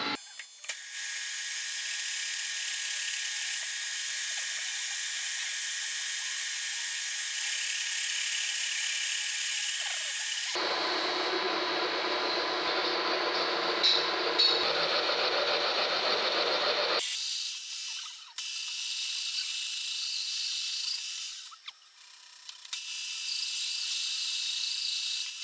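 A drill bores into the prechamber seat of a Volkswagen Golf 1.6 cylinder head, using an oiled bit. The whine stays steady and fairly quiet, shifting pitch partway through and pausing briefly near the end.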